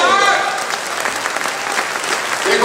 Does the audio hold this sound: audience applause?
yes